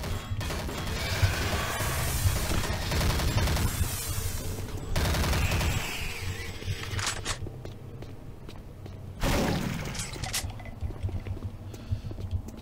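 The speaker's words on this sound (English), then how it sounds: "My two favorite weapons in this mod are the shotgun and the machine gun. They're just so awesome sounding." Shotgun blasts and machine gun bursts in Doom 3, loud clustered gunfire with crashes and footsteps, then quieter stretches broken by another heavy burst.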